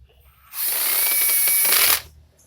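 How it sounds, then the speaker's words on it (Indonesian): On a Yamaha Aerox 155 scooter's CVT, bolts are driven with a ratchet tool in one steady, loud burst of rapid buzzing clicks lasting about a second and a half, preceded and followed by quiet. "Ini mesti pas ya, kita kencangkan."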